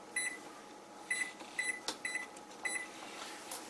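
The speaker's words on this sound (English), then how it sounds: "turning the oven down to 350 now" An oven's control panel beeps as it is set to 350 degrees while a turkey roasts, giving a quiet series of short electronic beeps in an irregular rhythm, about six of them over a few seconds with faint button clicks.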